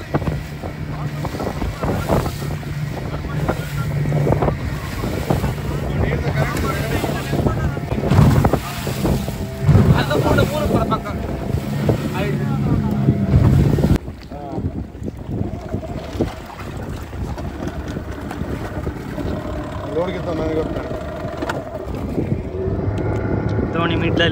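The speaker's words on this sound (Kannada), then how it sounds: "ಡಬಲ್ ಇಂಜಿನ್ ಇದೆ ಈ ಬೋಟಿಗೆ" A twin-engine motorboat runs on a rough, windy sea near Malpe Light House Island, with a steady engine drone, wind buffeting the microphone and waves, while people talk over the noise throughout.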